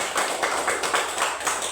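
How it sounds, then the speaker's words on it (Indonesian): Applause from a group in a classroom-like gathering, a steady patter of hand clapping at moderate loudness with gentle swells, no talking over it. "Berikan dulu tepuk tangan."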